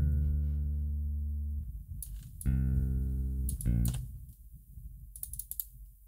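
A low, droning bass line plays in long sustained notes, with quieter clicky mechanical textures appearing between them.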